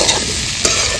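Water lily stems and shrimp, seasoned with salt and turmeric, fry and get stirred in a pan with no added water, a dense close sizzle with brief stirring rustles.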